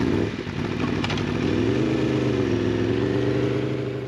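Motorcycle riding on a race circuit at the start of a track day, its engine droning loud and steady close by, rising slightly in pitch as it revs, with no talk.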